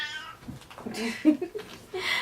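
A house cat meows indoors: several short, close meows come in quick succession, with a longer wavering cry near the end and some light background noise.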